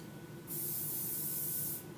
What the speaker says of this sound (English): I did put a lot of hairspray on it